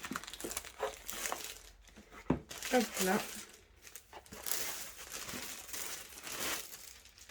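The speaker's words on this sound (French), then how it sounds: "je vais enlever le papier déjà" Paper wrapping is crinkled and torn off a diamond-painting canvas in a series of close, loud rustling bursts, while a person speaks briefly over it.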